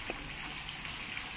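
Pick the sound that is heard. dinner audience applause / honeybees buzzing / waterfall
waterfall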